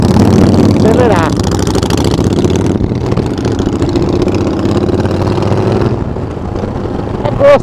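On a São Paulo street, a motorcycle engine idles loudly and close by, with a sharp rev at the start and another at the end, while people talk over it.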